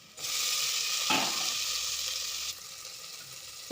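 Tomatoes sauté in a pan with onion, garlic and green chilli for sambar rice, giving a steady close hiss of frying that eases a little toward the end, with a brief stir partway through and no talk.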